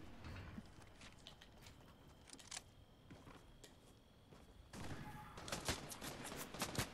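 Gunfire in the video game Fortnite: faint, distant shots crackle in scattered bursts, then a denser volley closes out the clip.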